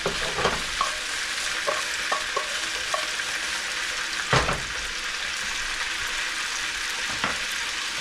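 Hotdogs fry in a pan with oil, a steady close sizzle broken by a few sharp clacks and scrapes of stirring and turning, with no voices.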